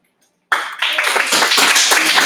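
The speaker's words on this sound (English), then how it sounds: "you guys are the class that claps a lot" A class of students breaks into loud, sustained clapping after a brief silence, dense overlapping claps filling the room, with a few voices mixed in.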